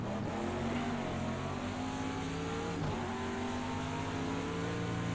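Corvette race car approaching during an IMSA race at Texas Motor Speedway, a steady loud engine drone with sustained tonal roar throughout, no clear pass-by peak.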